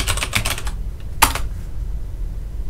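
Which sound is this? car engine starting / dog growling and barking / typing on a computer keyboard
typing on a computer keyboard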